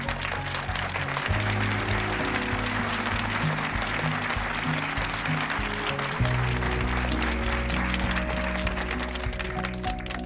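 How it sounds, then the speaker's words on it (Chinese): A group of hospital colleagues claps for a young doctor, a steady wash of applause lasting several seconds beneath a sustained, droning music bed. "鼓掌"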